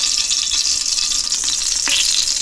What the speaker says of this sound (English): And then I'm gonna put my garlic in. Saute that for, I'd say about 30 seconds or so